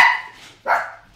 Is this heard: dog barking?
yes